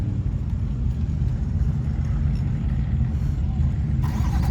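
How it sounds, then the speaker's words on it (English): A C8 Corvette E-Ray with AWE Track Exhaust rumbles close by outdoors, a loud steady low engine growl that brightens and rises sharply near the end as the car launches. "we're gonna have him do a launch here and then a normal takeoff from here too, so we can hear it from the outside"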